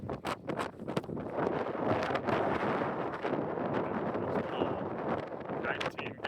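Strong gusting wind roars across an open airfield at Mercer County, buffeting the microphone in loud, sustained bursts that rise and fall without a break for several seconds.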